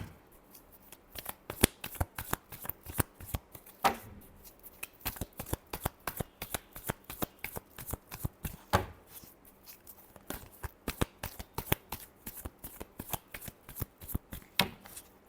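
Tarot cards are shuffled by hand in rapid, crisp riffling bursts that snap and flutter in quick succession, close and fairly loud, with no talking.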